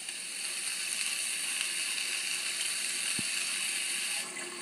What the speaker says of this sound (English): I'll give the black beans a moment to drain while I grate some garlic.